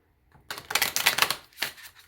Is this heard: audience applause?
no